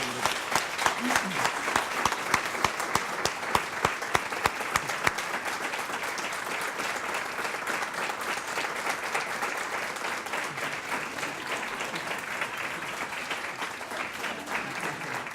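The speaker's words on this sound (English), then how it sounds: "we bathe you in applause and congratulations on that" Sustained audience applause, dense clapping from a sizable crowd, steady throughout with a few sharper claps near the start.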